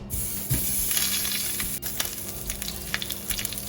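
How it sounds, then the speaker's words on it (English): Lamb shanks browning in hot olive oil in a pan over the highest hob heat, a dense continuous sizzle and crackle with small spitting pops, close and steady, no talking. "Go with a lob of olive oil, and let's get these browned off."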